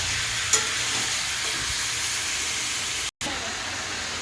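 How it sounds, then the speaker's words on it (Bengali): Chicken pieces frying lightly in a pan while being stirred for chicken kosa, a steady close hiss and sizzle with a faint clink, briefly cut to silence near the end. "মাংসটা সামান্য একটু হালকা নেড়ে চেড়ে"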